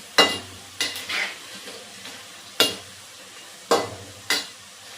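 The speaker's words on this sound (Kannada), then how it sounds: "ನೀಟಾಗಿ ಫ್ರೈ ಮಾಡ್ಕೊಳ್ಳೋಣ." Davangere-style bajji frying in hot oil, heard as a low, quiet sizzle broken by five sharp, close clatters and stirring strokes spaced unevenly, with no talking.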